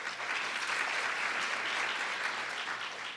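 An audience applauds steadily for a teacher being introduced, a dense, even wash of clapping from many hands that carries through the whole stretch with no voices over it.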